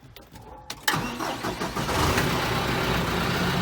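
A John Deere 5115M tractor engine cranks briefly, then fires and settles into a steady, loud diesel idle, close by with no talking.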